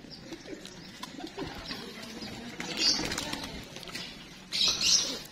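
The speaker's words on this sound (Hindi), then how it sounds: "ये सारे हमने कबूतर रखे हुए हैं," Pigeons coo softly nearby in a village breeding setup in Punjab, with two short bursts of flapping wings standing out against a quiet background.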